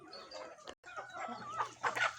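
Several chickens cluck close by in a lively, overlapping chorus, with short, busy calls that continue throughout.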